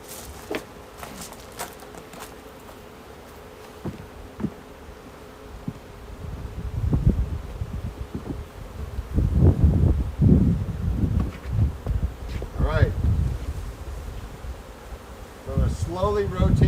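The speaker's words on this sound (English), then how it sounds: "Get some of those bees to go back into that." Honeybees buzz around an open hive during a swap to Flow supers, a soft steady insect hum under rustling frame handling and bumps that swell louder in the middle and later stretches.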